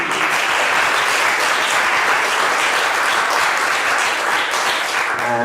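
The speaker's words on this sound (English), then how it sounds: "Special applause to you." Loud, sustained applause from an audience at a literary festival session, a dense continuous wash of clapping at an even level from start to finish, close and without talk.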